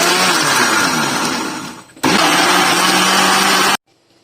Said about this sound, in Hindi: अब इसको ग्राइंड कर लेंगे, इसको कवर करेंगे, इसको ब्लेंड करेंगे